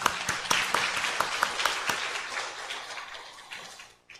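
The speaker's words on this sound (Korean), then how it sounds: "우리 하나님께 영광의 박수 올려드립니다." A church congregation at a Sunday worship service bursting into applause, dense rapid clapping from many hands with a few sharp standout claps, loud at first then gradually thinning and dying away.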